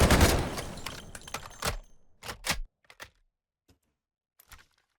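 A burst of automatic gunfire without recoil control in the Delta Force video game rattles loudly and rapidly, then breaks into a few short sharp bursts and isolated clicks before going quiet.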